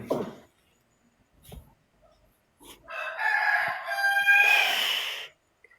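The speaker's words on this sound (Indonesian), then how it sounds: "Ini ayam berkokok nih" A rooster crows nearby in a long, loud, rising and falling call lasting about two seconds, preceded by a few faint clucks and scattered small noises.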